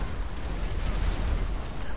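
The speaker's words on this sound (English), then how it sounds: "God, there's a lot of gunfire down here." Dense, continuous gunfire and explosions during a riot in the video game GTA 5 with a pedestrian riot mod, forming a steady loud roar with no gaps and no voices.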